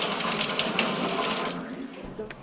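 Water pours from an open tap into a sink in Bogotá, a loud steady rush for about a second and a half that then thins to quieter splashes and drips.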